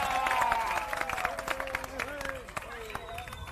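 A rally crowd gathered for the AAP candidate in Chandni Mahal claps and cheers. Loud dense applause blends with crowd babble and voices rising over it, and the sound stays strong throughout.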